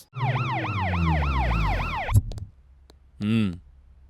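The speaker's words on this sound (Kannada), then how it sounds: "ಆಂಬುಲೆನ್ಸ್" An ambulance siren wails in a rapid, repeating up-and-down pattern, loud and close, then cuts off before a brief short blip of a tone.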